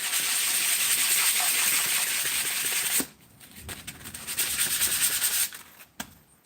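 A small puck of wood is rubbed clean, giving a steady, close, harsh sanding scrape for about three seconds, then pausing before softer, uneven rubbing strokes resume.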